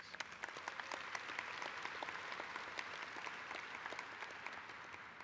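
Steady applause from a union convention audience, a dense wash of many hands clapping at even volume throughout, heard from a distance.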